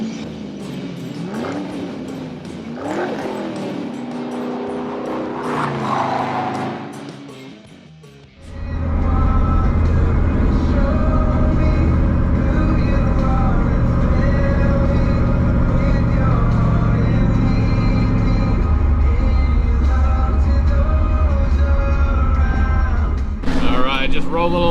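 A 53-year-old truck cruising on the road, its engine and road roar loud and steady after the first few seconds, preceded by a voice speaking over quieter cabin sound.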